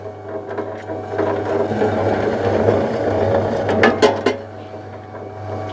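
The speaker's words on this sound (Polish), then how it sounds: "Zobaczymy jak maszyna sobie z tą linką poradzi." An EN10 cable stripping machine for recycling feeds 2.5 mm² stranded wire through its rollers, giving a steady mechanical whir with rattling and clicking on top. The sound is loud, close and continuous.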